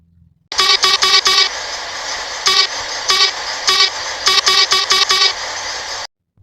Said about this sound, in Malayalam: അപ്പോൾ നമ്മൾ നോർമൽ ഹോൺ കേട്ടു